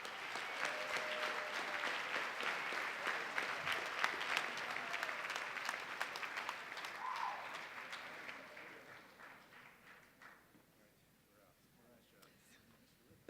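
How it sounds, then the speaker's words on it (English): Audience applause at a medical school white coat ceremony, a dense, sustained clapping from a large seated crowd that holds steady for several seconds before thinning and fading out toward the end. "And another round of applause for Cuca, please."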